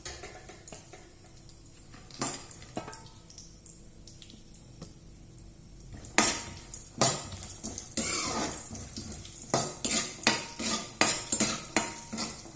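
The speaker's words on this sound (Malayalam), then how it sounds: "ആ നെയ്യിലേക്ക് ആദ്യം അണ്ടിപ്പരിപ്പ് വറുത്ത് കൊണ്ടിരിക്കണം." Cashews roasting in ghee for a Tamil Nadu sweet, stirred with a metal spoon that scrapes and clinks against the pan in irregular bursts, growing busier and louder toward the end over a faint low sizzle.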